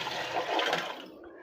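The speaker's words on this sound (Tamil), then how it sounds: "இதில் வடிகட்டின இந்த தண்ணியை இதில் ஊற்றுறேன்" Strained tomato water is poured into a bowl of mashed tomatoes for tomato soup, making a short, close splashing pour that swells briefly and then trails off into quiet.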